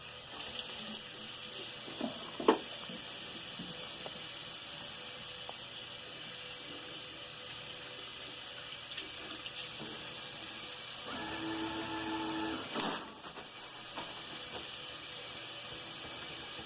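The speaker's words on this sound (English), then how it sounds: "I'm just going to quick wash my hands." Tap water runs steadily into a sink as a nurse washes her hands, a soft continuous hiss with small clinks and a brief louder splash near the end.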